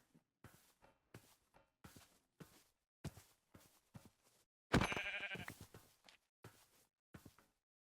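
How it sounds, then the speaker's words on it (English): Soft Minecraft sheep bleats with one longer, louder bleat near the middle, set among regular footstep-like thuds. "There's a white sheep over here."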